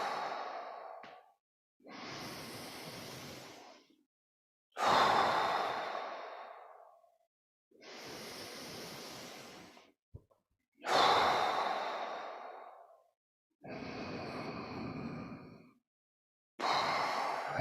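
Deep, slow breaths during a qigong breathing exercise, heard alone and close up as long drawn inhales and sighing exhales, about six or seven in a steady rhythm with short pauses between them.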